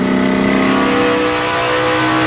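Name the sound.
NASCAR race cars, onboard Danica Patrick's car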